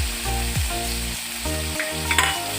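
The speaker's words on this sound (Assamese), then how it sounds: "একেবাৰে কম তেলত ভাজিছোঁ মাছটো।" Small fish sizzles and crackles in a shallow pan of very little oil, a steady frying hiss with light spattering pops.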